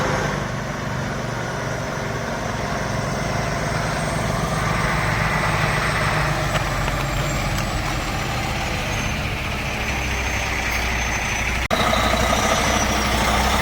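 A semi fuel truck's engine idles steadily nearby, a continuous low diesel rumble that holds an even level throughout with no talking, ending in a brief sharp hiss or clack near the end.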